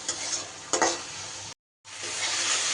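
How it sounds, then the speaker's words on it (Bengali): Spice paste with salt sizzles and sautés in hot oil while being stirred, producing a loud, close frying hiss with scraping strokes. There is a brief break of silence before the sizzle resumes steadily. "এইবার দিয়ে দিচ্ছি পরিমাণ মতো নুন। সুন্দর করে কষিয়ে নেব যতক্ষণ না তেল ছাড়ছে।"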